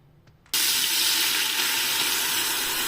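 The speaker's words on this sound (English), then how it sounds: "In this oil, I will go on and add my blended vegetables" A puree of blended vegetables hits hot oil in a pot for goat meat stew, setting off a sudden loud, steady hissing sizzle that holds evenly for a couple of seconds before cutting off.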